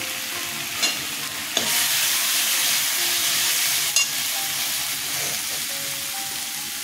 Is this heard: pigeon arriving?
no